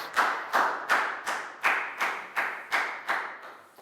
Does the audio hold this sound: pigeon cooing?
no